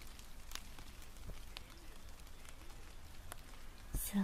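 Rain patters steadily during a Japanese ASMR stream, a soft, even hiss with scattered, faint drop ticks throughout.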